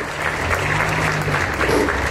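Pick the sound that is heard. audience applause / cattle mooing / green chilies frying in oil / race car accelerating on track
audience applause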